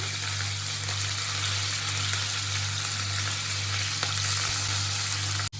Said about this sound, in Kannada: ಇವಾಗ ನಾನು ಕಟ್ ಮಾಡಿರುವಂತ ಪನ್ನೀರ್ನ ಹಾಕೊಳ್ತಿದ್ದೀನಿ